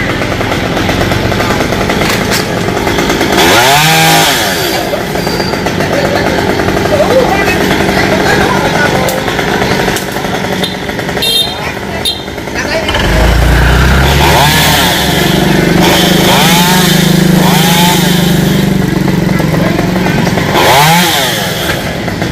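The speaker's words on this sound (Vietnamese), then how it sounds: "ba cũng phải cưa ra nhỏ nhỏ nữa mới được" Chainsaw cutting the branches of a tropical almond tree tangled among many power lines beside a busy fruit market road, a loud continuous buzz with revving surges and bogging cuts, traffic noise underneath.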